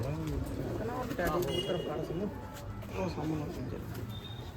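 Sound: pigeons cooing on a rooftop

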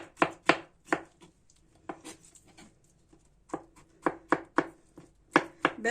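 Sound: chopping eggplant with knife

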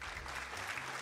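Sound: clapping

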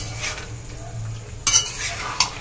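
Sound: stir-frying boiled chickpeas with spices

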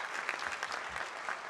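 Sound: audience applause

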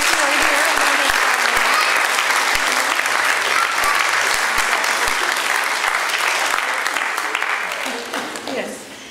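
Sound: applause

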